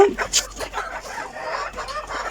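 Hens clucking at a poultry farm where they lay eggs in cages, a close, busy flock with overlapping calls and one sharper squawk near the start.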